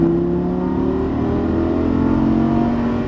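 A Lamborghini Gallardo Superleggera LP570-4 accelerates on the Las Vegas track, its engine note rising steadily in a loud, continuous roar heard from close up with no talk.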